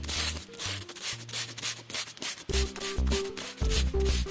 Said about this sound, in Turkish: Yani bu şekilde önce zımparalıyoruz.